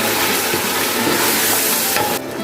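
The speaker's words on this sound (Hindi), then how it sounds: "अब प्याज को 2-3 मिनट तक अच्छी तरह भून लेंगे ताकि प्याज का कच्चापन वगैरह जो है वो ख़त्म हो जाए।" Onion paste sizzling with mutton in a karahi, a loud steady hiss of frying with stirring, fading somewhat at the end.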